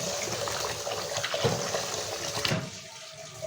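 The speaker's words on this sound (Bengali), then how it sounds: "চালটা ভালো করে পরিষ্কার করে ধোয়া হয়ে গেছে।" Rice being washed with water, a continuous close splash and trickle of running water that eases off near the end.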